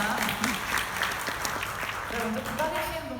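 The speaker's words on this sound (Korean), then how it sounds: "박수도 한번 맞아주세요" Audience clapping at a Synology 2020 seminar session as a staff member comes on stage, moderate and fairly distant, with a presenter's voice talking over it.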